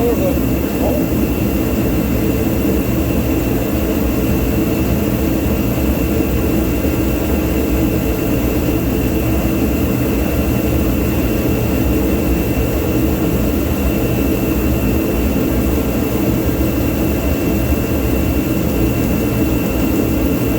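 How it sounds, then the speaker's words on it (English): A torpedo heater runs in a cold garage with the door open, making a constant loud roaring whoosh and steady low rumble with no break. "I got my little torpedo heater going on."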